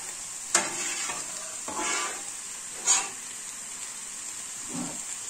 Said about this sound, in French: on mélange le tout avec la viande hachée